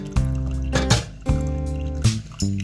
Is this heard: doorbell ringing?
no